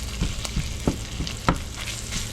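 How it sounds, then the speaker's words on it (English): Pepper and onion frying in a pan with chorizo, a constant sizzle broken by a few scraping stirs and taps of a utensil, close, with no voices. "Now we just want this to cook with the vegetables, the pepper and the onion."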